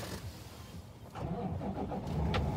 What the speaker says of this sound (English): and start the truck.